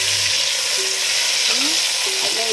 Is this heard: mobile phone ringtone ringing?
no